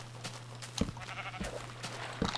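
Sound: sheep bleating in the video game Minecraft

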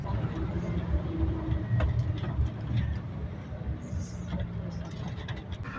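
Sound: little old vintage bus running at Imberbus event

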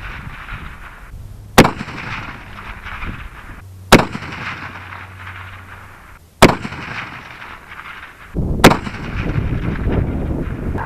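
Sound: Springfield M1903 rifle gunshot at long range

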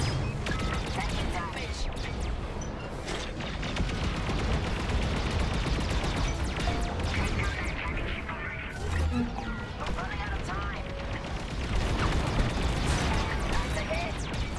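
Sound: starfighter weapons fire in the video game Star Wars: Squadrons

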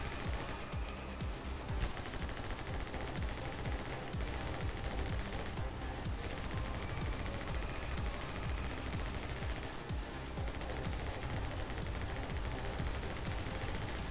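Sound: gunshots in the video game My Friend Pedro

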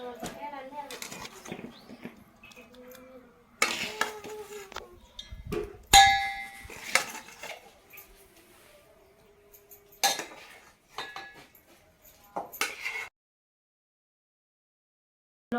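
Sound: transferring food into a metal pot

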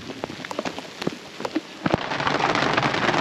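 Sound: heavy rain

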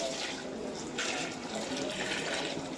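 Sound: mutton cooking water poured into pot for biryani

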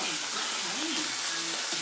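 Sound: food sizzling while mom cooks

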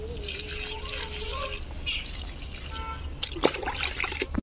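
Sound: watering freshly planted chilli plants with water

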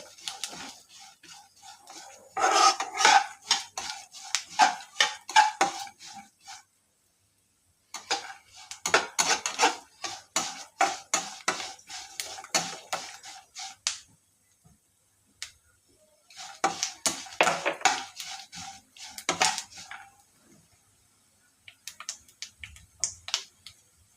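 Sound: sesame seeds and oats being stir-roasted in a pan

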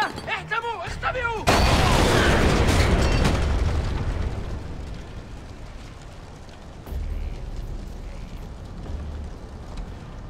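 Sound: grenade explosion in the video game Splinter Cell Conviction

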